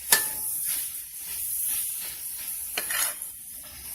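Zucchini pasta sauce with walnut mock meat is stirred in a hot pan, giving a steady close sizzle with scraping strokes and a few sharper clicks from the utensil.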